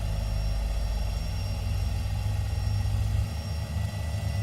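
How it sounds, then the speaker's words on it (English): A simulated Boeing 767 left engine spins up during a cold-and-dark start in the X-Plane 11 flight simulator, a steady, dense low rumble with a faint whine above it that shifts and thins slightly near the end, with no talking. "and then we'll start the left engine."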